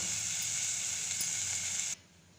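Ground gravy hits a hot pan of paneer curry with green peas and sizzles, giving a bright, steady hiss that runs loud and close, then cuts off abruptly just before the end.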